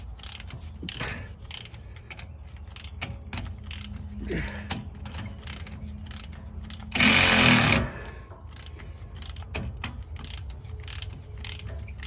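A ratchet wrench working the bolts of a Muncie 4-speed transmission on a 1957 Chevy wagon, heard as repeated close clicking and mechanical whirring, with a short loud buzzing burst in the middle.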